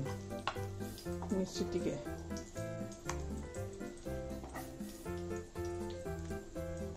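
Fish egg pakora batter frying in hot oil, with sizzling and spitting crackles under a voice and a music bed throughout.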